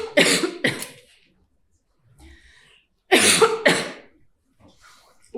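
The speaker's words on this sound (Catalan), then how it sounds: "Ho he fet bé, El què? la tos." A deliberate fake cough performed by an actor in a stage play, with two loud, close coughs, a quiet pause, then another pair of forceful coughs, and no other voices over them.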